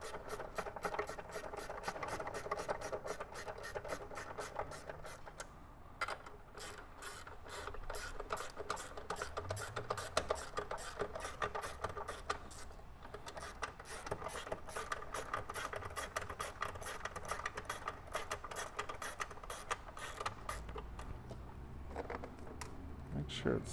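A ratchet wrench clicks in rapid, continuous bursts while turning a bolt during a battery change on a Nissan GTR, faint and steady with brief pauses between strokes.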